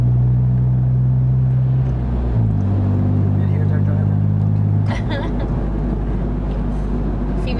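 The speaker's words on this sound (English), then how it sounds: "So we're driving on a smart car rally, going to Ojai with our Borla exhaust." Smart car fitted with a Borla exhaust driving on a rally toward Ojai, a steady low engine drone with a gear change midway, close and continuous under speech inside the cabin.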